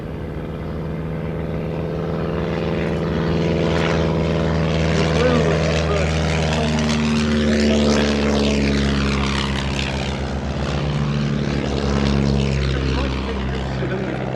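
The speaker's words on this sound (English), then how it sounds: "The Blackburn B2, the aircraft leading this pair" A Blackburn B2 propeller biplane leads a pair of aircraft at the 2023 Shuttleworth air show, its loud droning engines rising and sweeping in pitch as they pass close overhead.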